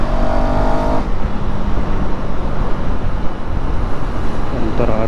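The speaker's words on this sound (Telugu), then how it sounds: "ఇంకొకటి మన బైక్లో సౌండ్ కొంచెం తగ్గింది" KTM Duke 390 motorcycle engine and exhaust running close by with a loud, steady drone, after its third service and with its sound somewhat quieter than before; a higher whine fades out after the first second.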